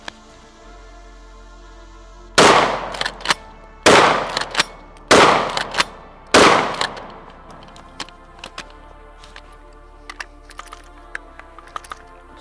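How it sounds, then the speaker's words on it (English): A SPAS-12 shotgun in pump action fires buckshot outdoors: four loud, sharp blasts about a second apart, each followed by a short clatter of cycling the action, then scattered small metallic clicks. "5 rounds of buckshot."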